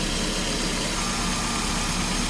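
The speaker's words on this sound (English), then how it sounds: "So now that we're idling at a safe number," A carburetor-converted Mini Cooper engine idles steadily at close range, a constant low rumble with a broad hum and no voices.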